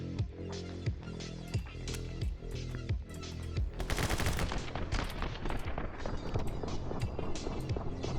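Gunfire in the video game My Friend Pedro starts as spaced single shots over a thumping music track, then breaks into fast, loud bursts of rapid fire that continue to the end.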